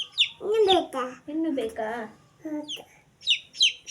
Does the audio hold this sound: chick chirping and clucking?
yes